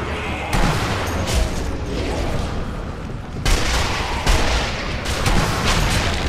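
Gunfire in the shooter game Sniper Elite: Nazi Zombie Army: loud, dense rifle shots and booming blasts run almost continuously, with a short lull partway through before the barrage picks up again.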